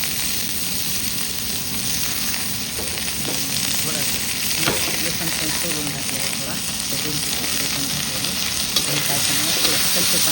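Chopped onion and a little tomato fry in a pan for a raw papaya vegetable dish, a steady close sizzle with scattered stirring scrapes running throughout, no talking over it.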